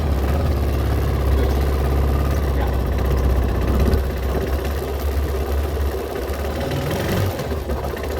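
A motorcycle engine runs loud and close, a steady low drone that dips slightly midway as the rider shifts into first gear, with no talk over it.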